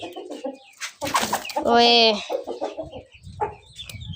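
A rooster or hen lets out a loud, drawn-out squawking call amid brief clucks, with a person talking nearby before and after.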